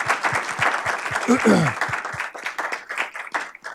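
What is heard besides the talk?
audience applause after presentations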